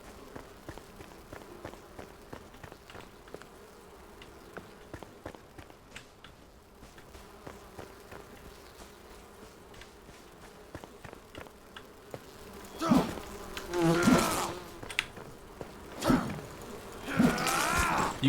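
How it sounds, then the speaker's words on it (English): Bees buzz in the survival game Enshrouded over low ambient sound and scattered footsteps. The buzzing swells louder and closer in bursts near the end, with no talk. "Bees."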